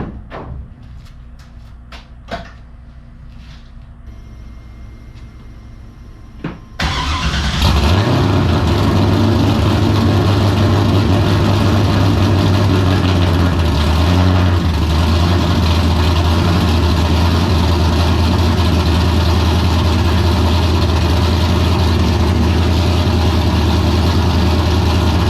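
An LS V8 engine in an E82 drift car with a full custom exhaust cranks after a few faint clicks, then fires and settles into a loud, rumbling idle that holds steady for the rest, close by with no talk.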